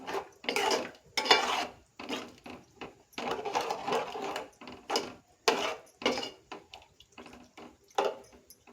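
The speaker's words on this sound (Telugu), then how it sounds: "ఇదంతా ఒకసారి బాగా తిప్పుకుందాం" Metal spoon scraping and clanking around a pot of dried fenugreek and raw mango curry with coriander leaves, in bursts of repeated stirring strokes that come close and fairly loud, no voices.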